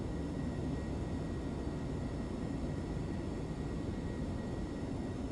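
An F-22 Raptor jet engine idling in MSFS 2024, a steady low rumbling whine with a faint high tone, constant and even with no change in level.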